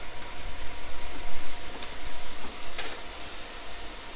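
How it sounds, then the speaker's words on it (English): Butter sizzling in a hot pan over medium heat, a steady soft crackle and hiss with small pops, close and fairly even throughout. "we have our pan at about medium, and I put about a tablespoon of butter in there"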